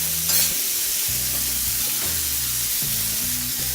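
Boneless chicken with tomato and spices, in a cauliflower chicken dish, frying on a hot tawa, a steady loud sizzle broken by repeated scraping stirring strokes of a spatula, close up and without speech.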